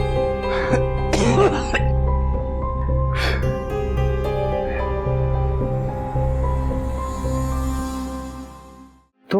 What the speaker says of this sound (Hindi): बहुत ज्यादा खांसी हो रही है, डॉक्टर को दिखाओ।